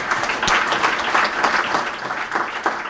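Audience applause at a Central Bank of The Gambia capital market launch event, a continuous round of many hands clapping, fairly loud and steady from start to finish with no talk over it.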